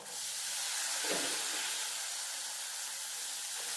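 Cowpea pods hit hot oil with masala and fresh coriander in a pan, giving a steady, loud broadband sizzle and hiss that carries on evenly without voices.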